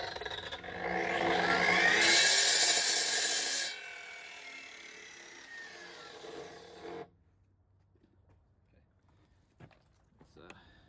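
A loud, harsh power saw grinds through stone for several seconds, then cuts out, leaving faint clicks and shuffling in a quiet room.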